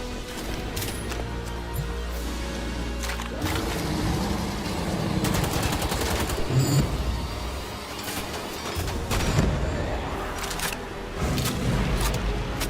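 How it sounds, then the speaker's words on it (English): Gunfire in the shooter Wolfenstein: The Old Blood, with bursts of shots and crashing impacts over a dense rumbling backdrop of game noise lasting the whole stretch. "Who was fucking shooting?"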